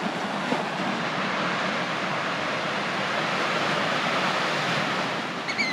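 Ocean surf washes steadily onto a sandy beach near Hawks Nest, Australia, a continuous broad roar of breaking waves with wind buffeting the microphone, no voices.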